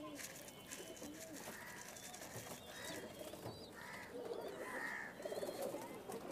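Pigeons coo softly in a loft, their low calls repeating on and off over a steady background hum, with a voice speaking intermittently throughout.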